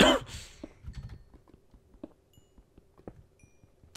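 Computer keyboard keys or mouse buttons clicked during a Minecraft UHC game session, a scatter of light, close taps after a louder burst at the start, with no talk over them.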